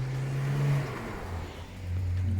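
A car engine hums past nearby, its low drone rising and shifting in pitch as the vehicle goes by, steady and fairly loud throughout.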